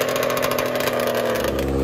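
Vintage two-stroke drag bike engine running steadily and loudly up close at a quarter-mile drag event, a sustained buzzing drone with constant level and no pauses.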